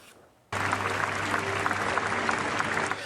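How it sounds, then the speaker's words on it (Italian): Mourners at a Sicilian funeral for three young men break into sustained applause as the coffins arrive, starting abruptly after a quiet moment and holding steady, dense and loud throughout, with a low hum underneath. "Applausi all'arrivo e all'uscita delle bare di Andrea Miceli, Salvatore Turdo e Massimo Pirozzo"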